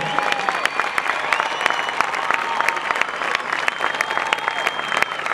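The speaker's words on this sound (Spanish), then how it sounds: "Un aplauso para esta gente de Argentina, de Buenos Aires." A concert crowd in Buenos Aires applauds steadily, dense clapping filling the whole stretch at an even, loud level.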